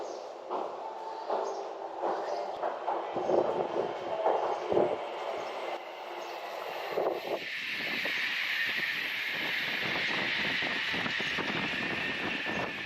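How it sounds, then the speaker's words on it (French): Strong wind in Japan roars and buffets steadily, rising into a louder broad rushing hiss in the second half, with a rumbling, rattling undertone throughout. "Il y a un vent de zinzin."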